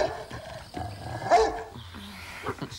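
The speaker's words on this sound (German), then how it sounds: "Ach, dem Hund fehlt nichts. Der bellt, weil es die erste Nacht ist." A dog barks and growls at night in a house, a few short muffled barks at medium distance amid quiet background rustling.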